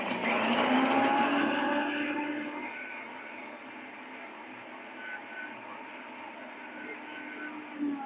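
A kitchen mixer grinder blends spices, starting as a loud grinding roar that settles after a few seconds into a steadier motor whine and hum. It is heard alone, without speech.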